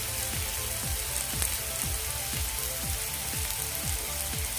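Onion and tomato fry in a pan with a soft, continuous sizzle, while faint rhythmic scraping strokes repeat roughly every half second underneath.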